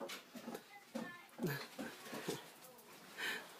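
A dog whimpers and yips in short, high-pitched bursts at a moderate distance, with some background noise and no clear speech.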